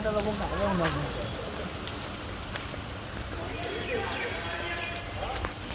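Rain begins falling with a steady, fine patter across the whole stretch as a soft hiss of drops, and a voice speaks briefly at the start.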